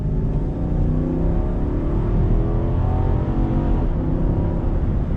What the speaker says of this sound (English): So for example, I floor it